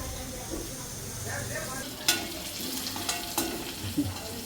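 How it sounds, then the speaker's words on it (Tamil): Fennel seeds, cumin, onion, curry leaves and garlic sautéing in a pan for a village-style country chicken gravy, a steady low sizzle with a few sharp scraping clinks of a spoon stirring against the vessel. "சோம்பு சீரகம் வெங்காயம் கருவேப்பிலை பூண்டு மூணு போட்டு வாசம் வர்ற வரைக்கும் வளர்க்கணும்"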